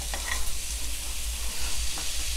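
Pork ribs are stir-fried in a hot pan for Thai braised ribs, giving a steady sizzling hiss over a low rumble, with faint scrapes of stirring.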